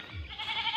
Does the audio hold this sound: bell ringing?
no